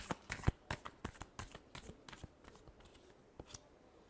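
Tarot cards are shuffled by hand in a quick run of crisp riffling flicks and taps, close and fairly soft, thinning out toward the end.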